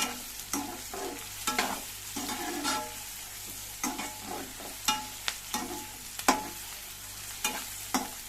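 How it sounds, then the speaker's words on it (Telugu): Chana, cloves and other ingredients for puri frying in oil, a soft steady sizzle broken by repeated sharp scraping clicks of stirring, close and without talk. "అన్నీ వేసేసుకున్నాను నూనెలో బాగా వేయించాలండి బాగా గోల్డెన్ కలర్ వచ్చేటట్టు వేసుకోవాలి"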